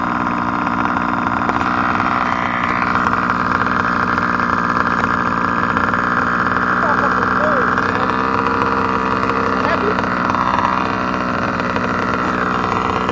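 A Redcat Dunerunner RC car with a race-ported Zenoah G320 engine drones continuously at close range, a loud, steady buzzing two-stroke note with slight surges throughout.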